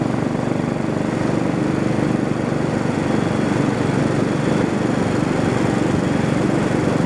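A Royal Enfield motorcycle engine drones continuously at riding speed, loud and steady, mixed with wind rush and no speech.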